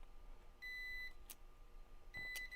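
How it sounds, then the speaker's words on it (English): Two short electronic beeps, each a steady tone about half a second long, sound from test equipment during laptop motherboard repair, separated by a pause with faint clicks in a quiet room. "Is that beeping too loud?"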